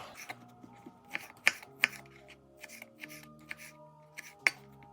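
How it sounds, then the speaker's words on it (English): Knife chopping tomatoes for a red bean curry gives scattered, irregular taps against a board, a few sharper cuts standing out, soft and close over quiet background music. "Chop the tomatoes."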